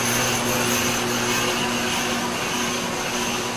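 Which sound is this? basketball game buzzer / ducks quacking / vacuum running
vacuum running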